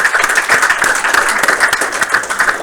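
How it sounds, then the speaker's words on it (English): An audience at a game studio build review gives a brief round of applause, dense overlapping claps at close range for a couple of seconds with no talking. "another big round of applause for everybody"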